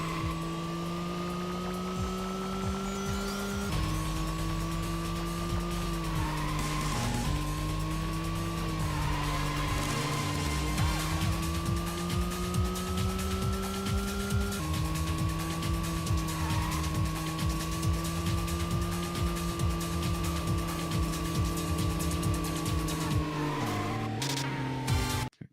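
Car sliding through a handbrake turn in the PS1 racing game Racing Lagoon, a steady loud engine drone with tire skid noise running throughout, dipping briefly near the end.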